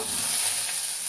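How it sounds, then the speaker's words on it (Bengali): Garlic and bay leaves fry in hot oil, giving a brief, loud, close hiss of steady sizzling. "এখানে নিয়েছি তেজপাতা, তেজপাতা দিয়ে দিলাম। একটু রসুন দিয়ে দিলাম"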